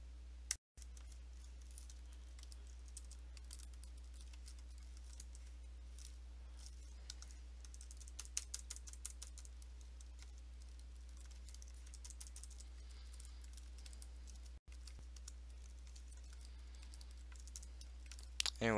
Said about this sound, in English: all you need to do is type this